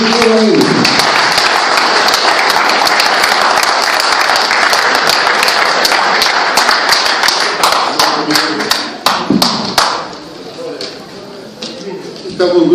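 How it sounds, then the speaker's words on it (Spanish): A loud crowd applauds a congressman taking the stage at a political event, with dense, close clapping that carries on steadily, then thins into scattered claps and lighter patter near the end. "Con ustedes un fuerte aplauso al congresista Manuel Daniel Eguaguirre."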